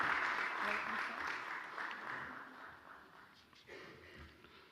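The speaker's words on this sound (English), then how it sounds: "A round of applause as I present to you Dr." An audience at a live award event on law breaks into applause, a fairly faint, dense clapping that swells at first and then slowly fades out.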